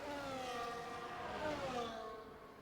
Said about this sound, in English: Listen to those engine sounds on the broadcast.